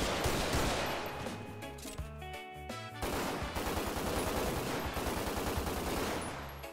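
FiveM video game gunfire from an added gun pack rattles out in loud, rapid automatic bursts with a brief gap midway, dense and continuous with no talking.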